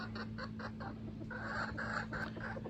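A big red rooster clucks in a series of short, quiet bursts over a low steady background hum, with no talking.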